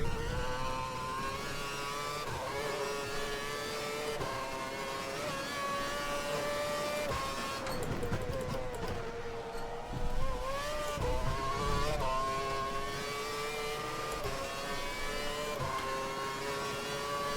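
A Formula 1 race car engine in the F1 2012 video game screams at high revs, its pitch climbing and dropping sharply through gear changes, loud and continuous with no voices.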